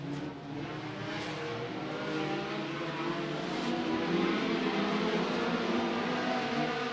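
Roadster race cars circle a dirt oval at Potomac Speedway during a feature race, a distant continuous engine roar that swells gradually, heard from the stands with no one speaking.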